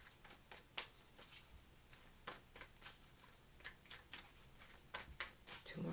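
Soft, quick riffling and flicking of tarot cards being shuffled in short bursts, close by and fairly quiet, with no talking.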